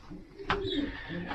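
Soft, close cooing from young pigeons inside a loft, a low murmuring call with a brief brighter flutter near the middle.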